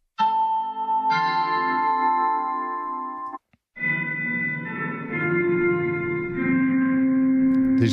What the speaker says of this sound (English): This is quite nice as a chain reverb.